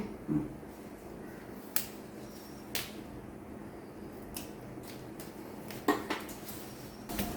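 A handful of sharp, irregular knocks of a knife chopping vegetables on a cutting board, spaced apart over a quiet room hum.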